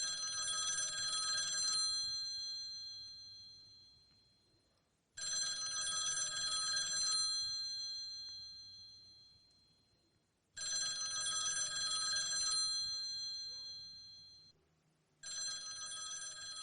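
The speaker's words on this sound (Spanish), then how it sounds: "si algún día suena el teléfono, él no contesta." A telephone bell rings in four long, metallic bursts of about two seconds each, every ring trailing away before the next, loud and close with no talking.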